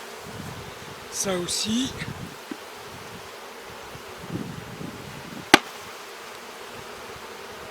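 Honey bees hum at a spring hive inspection, a low buzz under brief speech, with rustling and a sharp knock partway through.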